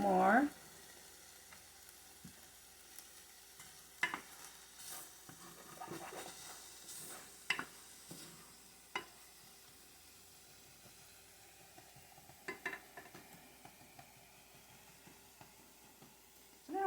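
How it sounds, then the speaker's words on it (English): Food sautés in a pan without oil while red lentil dahl is cooked, a soft continuous sizzle with scattered sharper clinks and stirring scrapes, fairly quiet, close up. "this is a great way to saute without using olive oil or avocado oil or whatever oil you use"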